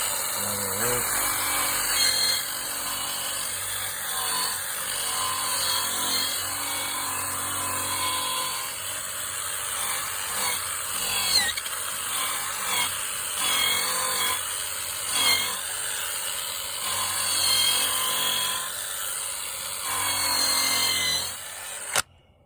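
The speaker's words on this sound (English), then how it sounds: "Alright, put the drill on it." A power drill whirs steadily for a long stretch, its high-pitched motor driving a brush that scrubs a car seat with a rough, fluctuating hiss, close up.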